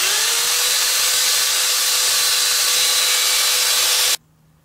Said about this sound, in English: Back to sanding this with the 80 grit.